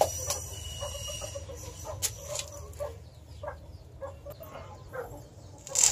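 Domestic chickens at a home rose nursery cluck and call in short scattered bursts over a quiet low background hum, fairly near and moderate in volume, with no talking.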